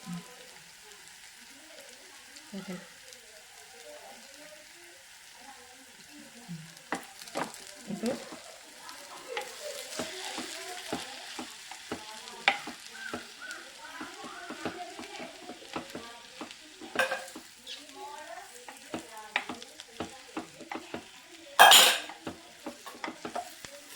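Cooked chicken goes into a pan of frying onion masala for cutlets and gets stirred, with a soft sizzle under repeated spoon clinks and scrapes against the pan, a sharper clatter near the end, and a person talking.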